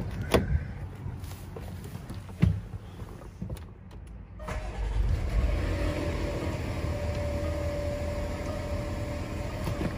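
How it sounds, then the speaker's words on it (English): A Land Rover LR4 with an air suspension fault starts up after some clicks and knocks. The engine catches around the middle and settles into a steady, close idle hum with a faint whine, and no one speaks. "So now let's go start up the car"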